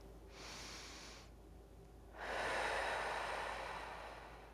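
Two slow, deep breaths taken close by during an energy balancing exercise, a long inhale then a louder, fuller exhale through the nose.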